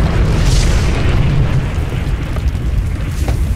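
Firecrackers go off in a Hindi film scene, heard as loud, continuous rumbling booms that keep a heavy low-end roar going throughout with no clear separate pops.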